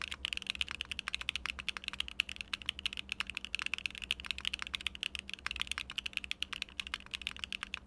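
A Mode Encore mechanical keyboard with lattice blocks, typed on rapidly and steadily. The keystrokes sound clacky, crisp and close, with no voices.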